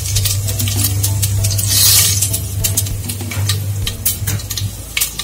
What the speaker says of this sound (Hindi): अभी ये सब गरम मसाला, खड़ा मसाला सब जो है वो सब डाल दूंगी।